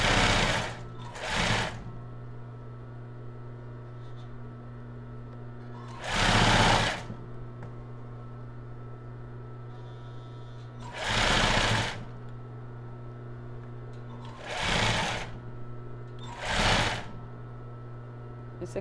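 Sewing machine stitching elastic onto a lace cropped top without cups, running in six short bursts of rapid whirring stitches separated by quiet pauses, fairly close.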